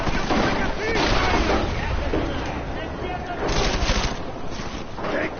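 Gunfire and explosive blasts in the video game Deus Ex, loud and continuous across the moment, mixed with shouting voices and combat chatter.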